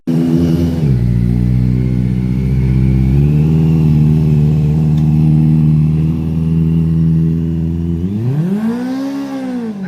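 Motorcycle ridden with the clutch slipping: a loud, steady engine drone that holds its pitch for several seconds, shifts slightly, then rises and falls sharply near the end.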